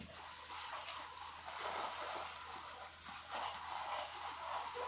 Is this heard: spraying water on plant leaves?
yes